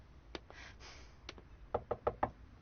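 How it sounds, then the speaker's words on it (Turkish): Knocking on a door indoors: a few scattered light taps, then four quick, firm raps in a row, fairly faint in a quiet room. "Kapı çalındı demin"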